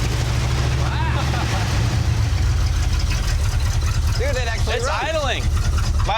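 A 1977 C-30 square-body tow truck's heavy engine idles in a junkyard with a steady low rumble throughout, while people talk excitedly over it near the end.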